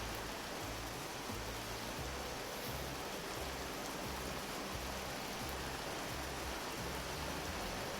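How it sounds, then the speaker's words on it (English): Steady rain ambience in the Vintage Story video game, a dense, even hiss of falling rain at low volume throughout with no voices. "I turned the volume down on the rain"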